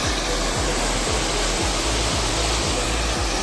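Steady, dense rushing water of Kundi waterfall roars continuously at close range, a broad unbroken wash of noise, with faint low thumps underneath.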